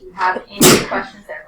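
A single sharp sneeze bursts out in a classroom during an algebra lesson, loud and close, with a teacher talking just before and after.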